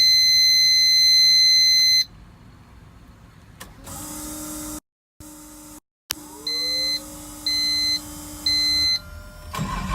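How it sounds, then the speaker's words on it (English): Electronic warning beeps from a Nissan 240SX with an RB25DET engine swap: a steady tone, then a starter cranking, followed by three evenly spaced beeps with a low hum underneath. "I could turn it off and not have it beep every single time."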